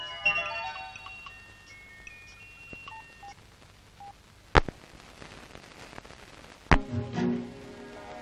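Telephone keypad tones sound in a short run of DTMF beeps early on, then two sharp clicks or thuds stand out against faint background music.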